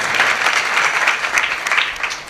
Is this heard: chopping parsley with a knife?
no